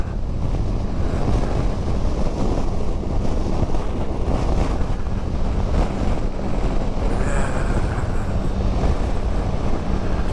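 Strong wind roaring over the microphone during a ride on a 21-year-old bike, a loud, steady buffeting rush that continues throughout with no speech.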